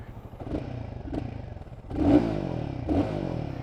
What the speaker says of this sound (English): It's got quite a nice rasp from the airbox.